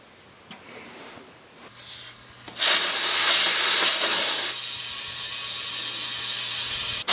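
Air rushing into a van tire fitted with a Schrader valve, starting with faint clicks and fiddling, then a loud burst of hissing that settles into a steadier, quieter hiss with a low hum underneath.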